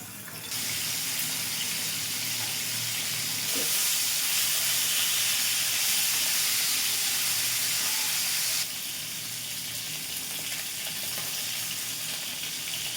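Steady loud hiss of shurma fish sizzling in hot oil in a frying pan, swelling briefly in the middle, with no voices.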